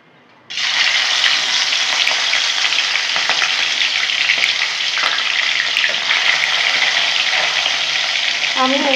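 Tengra fish being fried crisp in hot oil in a pan, with a sudden loud sizzle bursting in after a short quiet start and holding as a steady, close crackle.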